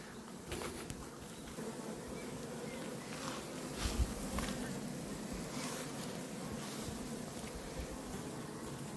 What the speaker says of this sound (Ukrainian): На пасіці теж приятний гул.